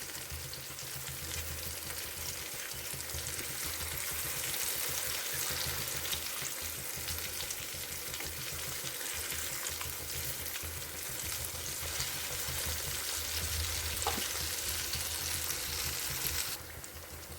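Battered arbi (taro) leaf pakoras fry in hot oil, a steady close bubbling sizzle running throughout with occasional faint clinks as pieces are turned.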